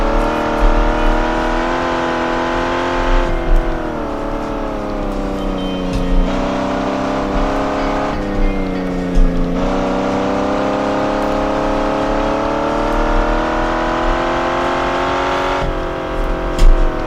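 A classic GT sports car held at full throttle on a hot lap of a vintage street track around Napoli, its engine roaring loud and close, pitch climbing through gears with brief dips at each shift.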